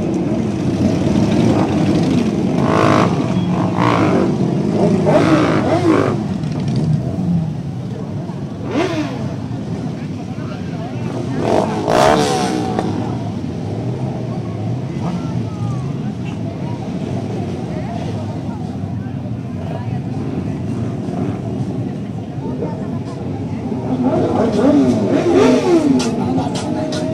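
Motorcycles in a big street parade during an international motorcycle week in Mazatlán, engines rumbling and revving steadily throughout, with crowd noise and people talking over them.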